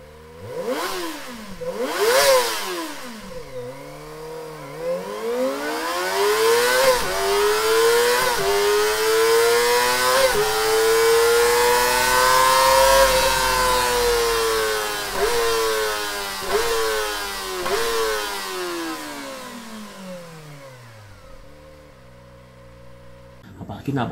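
Kawasaki Ninja ZX25R with a 250cc inline four-cylinder DOHC 16-valve engine revving hard, two quick blips and then a long sweep climbing to a high-pitched scream before falling away, close and loud.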